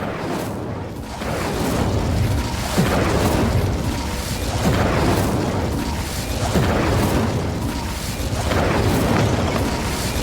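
The Incendio fire spell from Hogwarts Legacy roars continuously, with dense rumbling booms that swell in repeated waves over about ten seconds, loud and close with no talk.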